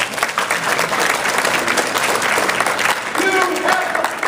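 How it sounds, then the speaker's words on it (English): A room full of people at a political campaign event for the IL-08 district gives a woman a big hand before she takes the floor; loud, continuous clapping is mixed with a few voices. "give her the biggest hand of applause in the world"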